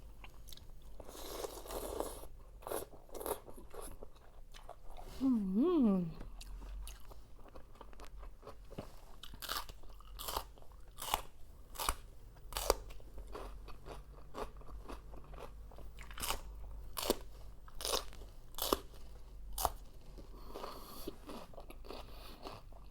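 Close, crisp crunching and biting from chewing a Thai spicy salad of long green beans (tam lep mue nang), in irregular bursts with brief scraping between bites and no talk.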